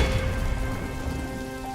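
A sudden cartoon rainstorm pours steadily, a dense wash of rain hitting surfaces over a low rumble, continuous throughout the short moment.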